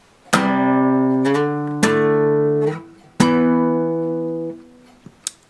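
Three sustained, ringing acoustic guitar power chords struck one after another, each left to ring out for about a second before the next, with no talking.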